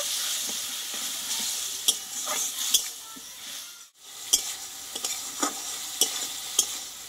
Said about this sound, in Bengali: আর দেবো চিনি দিয়ে মশলাটা ভালোভাবে একটু কষিয়ে নেব